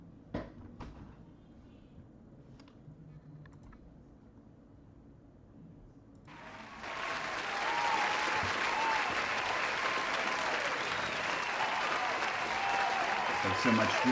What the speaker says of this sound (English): our streamed audience is hearing a boisterous round of applause sound effect that I have piped in from the YouTube video